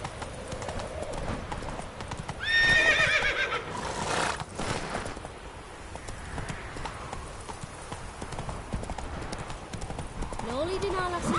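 A horse in The Witcher 3: Hearts of Stone gallops with steady clip-clop hoofbeats. A whinny breaks in partway through, and voices talk over the hooves.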